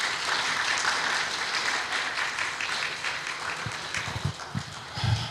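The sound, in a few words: congregation applause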